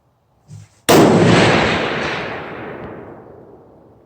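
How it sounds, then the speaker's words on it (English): A single loud 7mm Remington Magnum rifle shot fired with reloaded ammunition at long range; a sharp blast follows a small click, then a long rolling echo decays over three seconds. "this is my 3rd shot"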